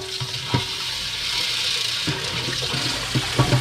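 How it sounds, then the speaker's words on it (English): Fresh hot tap water rinses out a vessel during gold recovery from electrolyte solution, a rushing, splashing stream punctuated by a few hollow knocks and clunks. "Rinse it out of there with some fresh hot tap water here."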